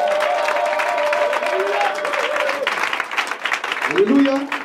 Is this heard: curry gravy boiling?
no